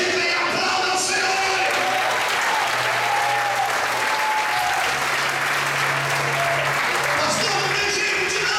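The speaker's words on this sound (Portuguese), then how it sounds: "Glorifiquem e aplaudam o Senhor." A church congregation applauds during a sermon, sustained crowd clapping that fills the room for several seconds at an even level, with a low steady tone beneath it.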